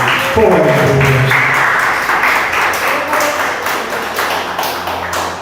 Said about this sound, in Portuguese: Palmas para Jesus, bem forte para Ele